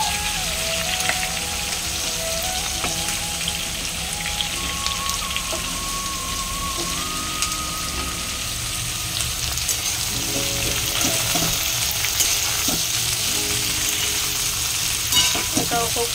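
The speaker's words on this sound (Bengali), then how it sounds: "আলু তো মোটামুটি ভাজা হয়ে গেছে, পটলগুলো ভাজা চলছে।" Potatoes, pointed gourd and onions frying in oil in a pan give a long, steady crackling sizzle, close and even, with occasional utensil clinks and a faint tonal hum in the background.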